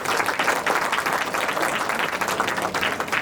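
An audience at a talk claps in a dense, sustained round of applause, fairly loud and even from start to finish with no voices over it.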